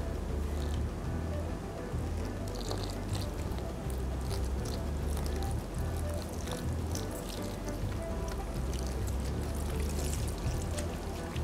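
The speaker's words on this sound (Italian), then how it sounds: "A questo punto mettiamo l'acqua in cui abbiamo messo il lievito naturale." Water holding natural yeast poured into pizza flour mixed with salt while making Neapolitan pizza dough, a steady close trickling pour running continuously with faint clatter, no talk.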